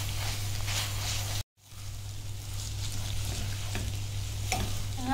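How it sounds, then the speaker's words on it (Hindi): Noodles stirred into shakshuka in a pan, giving a steady soft sizzle with scraping and stirring, broken by a brief gap of silence, then continuing close and moderately loud. "और नूडल्स ऐड करने के बाद इसको अच्छे से मिक्स कर लेंगे।"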